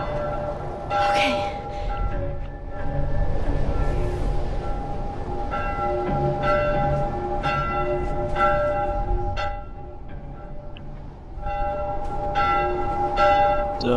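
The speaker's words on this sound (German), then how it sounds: "Da läutet irgendwer eine Glocke." A bell tolls repeatedly in The Last of Us during a snowstorm scene, ringing in steady strokes over a loud, rumbling ambient backdrop, with occasional speech.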